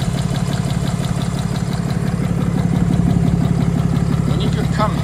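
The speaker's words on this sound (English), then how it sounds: "You guys hear that compression? It wasn't this loud before." A 2022 Ram 3500 engine idles close by with a loud, steady rhythmic compression chuffing and low rumble, the engine having a suspected fault.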